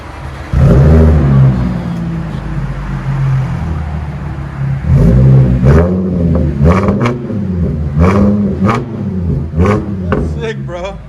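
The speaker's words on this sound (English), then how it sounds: "That's how you do a muffler delete on these, and a resonator delete." Revving from a supercharged 2016 Audi S4 with a straight-pipe true dual exhaust, its muffler and resonator deleted: repeated loud, close throttle blips rise and fall in pitch, with people talking over it.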